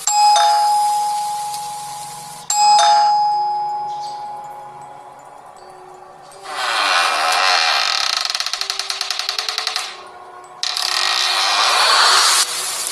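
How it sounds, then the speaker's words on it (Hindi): A doorbell chimes twice in clear, ringing tones that decay slowly, followed by harsh rattling, mechanical bursts and a fast clicking ratchet-like sequence. "कि अचानक घर की बेल बजी।"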